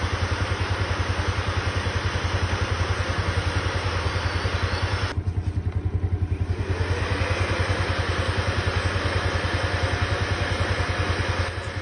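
A Yamaha Mio Sporty scooter engine idles with a fast, steady pulsing beat while its radiator cooling fan whirs continuously over it, fairly loud and close, with no talking.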